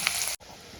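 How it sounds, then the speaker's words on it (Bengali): Food frying in a pan until lightly reddened on both sides, a steady broadband sizzle that breaks off briefly, then resumes more quietly. "হালকা করে লাল লাল করে এপিট ওপিট আমি ভেজে নেব।"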